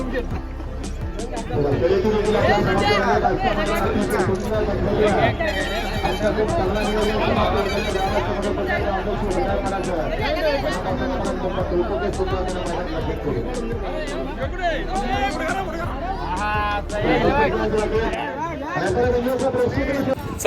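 Dense crowd chatter fills a bullock cart race ground in Ambeshiv Bhinarpada, with a steady hubbub of many voices, some near and louder, running the whole time and broken only by brief short sounds.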